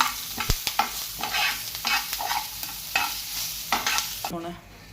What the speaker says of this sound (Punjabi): ਹਾਂਜੀ ਆਪਾਂ ਇਹਨੂੰ ਚੰਗੀ ਤਰ੍ਹਾਂ ਭੁੰਨ ਲੈਣਾ ਹੁਣ ਇਹ ਭੁੰਨਿਆ ਜਾਊਗਾ